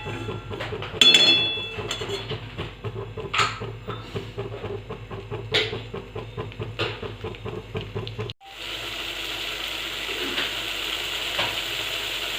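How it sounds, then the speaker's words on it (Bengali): Spice paste for an egg curry with potato and cauliflower sautés in oil, with a steady run of stirring scrapes and clicks over a soft sizzle before the sound shifts to a broader, even hiss. "এবার মশলাটা আমি ভালো করে কষিয়ে নিচ্ছি।"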